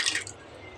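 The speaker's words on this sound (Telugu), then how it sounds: "ఇప్పుడు మనం ఉడకపెట్టిన గిన్నెలోనే కొంచెంగా ఒక 1/2 గ్లాస్ వరకు వాటర్ పోసి" Water is poured into a pan of beerakaya pesara pappu, a ridge gourd and moong dal curry, giving a short, close splash that quickly settles.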